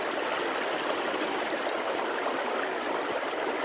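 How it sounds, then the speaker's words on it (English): Creek water flowing steadily, a close, continuous rushing babble with no breaks and no talk. "so here I am in the creek"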